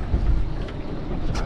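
Strong wind buffets a boat's microphone while fishing for barramundi on the water, a steady low roaring rumble with gusty swells, close and loud, with no talk.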